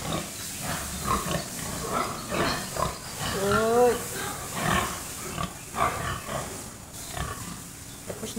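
Pigs on a farm, bulugan boars among them, grunt and squeal in repeated close bursts, one long rising squeal standing out, while a person talks intermittently.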